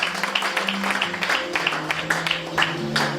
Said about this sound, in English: Clap your hands and sing